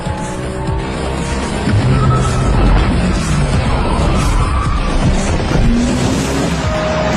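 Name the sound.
car drifting hard around the first turn in a race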